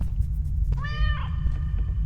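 Kitten in the horror game The Stairway 7 Demo gives one short, clear, high meow up close, over a constant low ambient hum.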